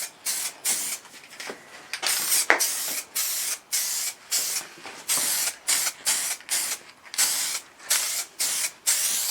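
Aerosol spray paint can coating Triumph Bonneville motorcycle parts: a series of short hissing bursts, about a dozen, each a second or less with brief gaps, close and fairly loud, no talking.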